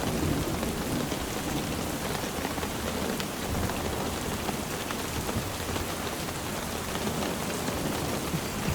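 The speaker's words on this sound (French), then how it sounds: "Il pleut beaucoup. C'est la plus grosse pluie qu'on a depuis l'expédition." Heavy tropical rain in the Amazon rainforest during a storm, a dense, steady roar of downpour drumming on surfaces close by, continuous throughout with no talk.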